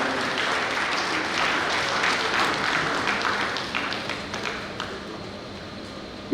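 Audience at a NIESV memorial lecture claps steadily in a sustained, moderately loud round of applause from many hands that gradually thins toward the end.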